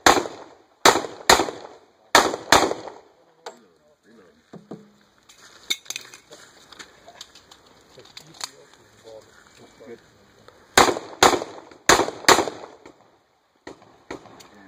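Pistol gunfire at an ICORE action pistol match at a gun club, sharp loud shots in quick pairs and bursts with quieter handling noise between, and a voice calling commands briefly.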